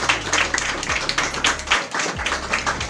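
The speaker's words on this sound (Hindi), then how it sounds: "एक बार जोरदार तालियां से।" An audience at a college event gives a round of applause, a dense patter of many hands clapping steadily for a few seconds with a low hum underneath.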